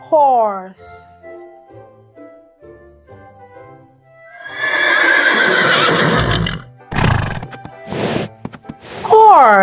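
A horse neighs and whinnies, loud and close, with a long shaky call and snorting bursts, and faint hoof clip-clops in the quieter stretch.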